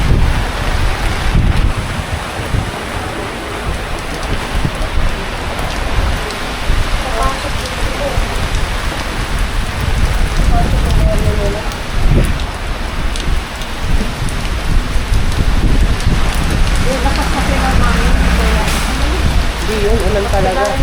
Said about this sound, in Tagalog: Hindi yun, ulan talaga.